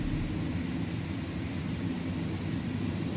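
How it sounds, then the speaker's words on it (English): Airbus A310 jet engines recovering thrust after a stall in a flight simulator give a steady, loud, broadband roar with a dull low rumble, unbroken throughout and free of talk. "these engines are slow to recover"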